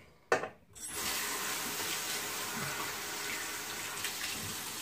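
Water gushes steadily from a tap in a bathroom, switched on with a brief clunk and then running as a constant close hiss, with no talk.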